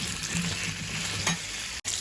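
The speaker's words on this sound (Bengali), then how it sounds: "মাংসের আলুগুলোকে আগে একটু ভেজে নিচ্ছি," Potatoes frying in a pan for meat curry sizzle steadily and close, with a few stirring scrapes and a brief cut near the end, no speech.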